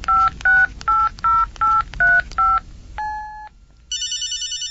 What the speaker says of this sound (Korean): 너 그 휴대폰으로 다시 한번 전화 좀 해봐라.